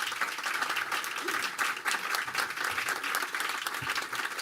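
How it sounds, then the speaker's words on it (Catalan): An auditorium audience claps steadily at an awards ceremony, a dense even wash of applause throughout with a faint voice underneath. "acompanyats per aquest aplaudiment de l'auditori"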